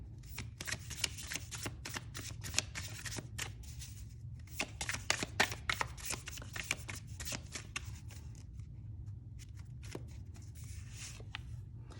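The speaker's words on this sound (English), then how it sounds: "it's still a very good deck to side shuffle" Side shuffling of an Oriens Tarot card deck, close and quiet, a rapid series of soft riffling flicks and card slaps in irregular bursts, no talking.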